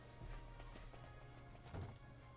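Horse hooves clip-clop in Dragon Quest 8, a few soft, distinct steps over a steady background drone of game ambience, with no talk.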